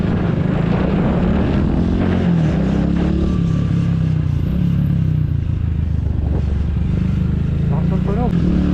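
A motorcycle on a Sunday ride drones loudly and continuously with a rough, throbbing engine note and wind rush, while a rider talks over it throughout.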